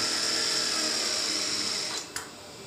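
A sewing machine runs a continuous seam on palazzo trousers, a close, steady whirring stitch that slows and stops near the end with a small mechanical clack.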